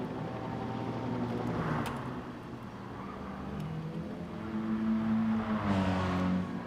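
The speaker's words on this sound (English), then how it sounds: "The Ford sounds really nice. Got a nice tone to it." A Ford race car in a racing video game holds a steady engine drone with shifting harmonic tones that swell as it revs through the gears, fairly quiet and heard alone.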